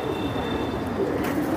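Caged pigeons call and coo at a pigeon farm, a low steady murmur of several birds fairly close, with no speech.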